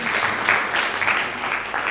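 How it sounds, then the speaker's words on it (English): Participants at a climate change reporting workshop clap together in a short, moderately loud burst of applause with voices mixed in. "Let's clap again."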